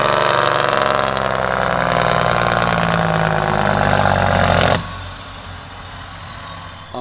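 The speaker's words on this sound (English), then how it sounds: "What you hear is a great deep sound that can be heard all around coming out of the engine exhaust." A deep diesel truck engine rumbles loudly and steadily from its exhaust, then drops abruptly to a quieter idle near the end.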